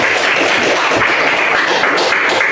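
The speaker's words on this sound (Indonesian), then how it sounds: "kita beri tepuk tangan untuk kelompok 2" Classmates in a Catholic religious education classroom in Merauke applaud a student group, a continuous, fairly loud wash of clapping hands for a few seconds.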